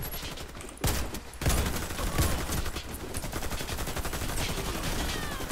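Rapid automatic gunfire in the online shooter Warface, dense bursts running almost continuously and fairly loud throughout, with no talking over it.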